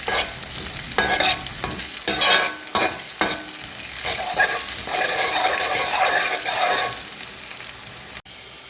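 Garlic and ginger sauté in a pan for a chilli pickle, with a loud, constant sizzle and several scraping stirs of a spoon against the pan. There is no talking.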